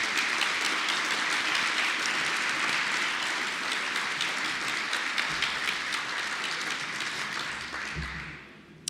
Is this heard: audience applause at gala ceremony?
yes